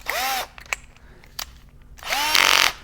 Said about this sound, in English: I put it in the drill and then I'll just work it in and out.